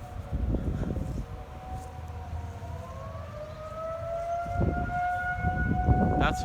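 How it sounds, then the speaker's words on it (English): A Federal Signal 2001 tornado siren sounds during a test in Boone County, Illinois, its long rising wail carrying from a distance over wind and low rumble, with a second siren's tone layered nearby. "we have a Federal Signal 2001 somewhere down there. Oh, yep, there they go again"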